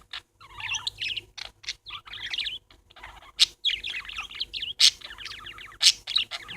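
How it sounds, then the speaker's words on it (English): Several pet parakeets chirp and warble indoors in rapid, overlapping bursts of high twittering with brief sharp calls, fairly close, over a faint low hum. "Say hi to everybody, Tweety birds"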